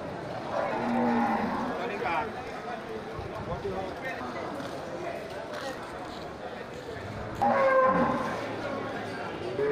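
Local cattle moo at a livestock market where animals are sold for slaughter, two long low calls a few seconds apart over a crowded, noisy background.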